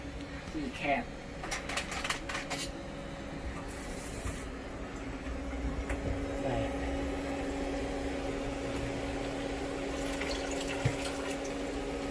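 Water runs and splashes steadily into a pan as it fills, ready for boiling jackfruit for a Thai jackfruit paste, a continuous close wash of sound with some faint background noise.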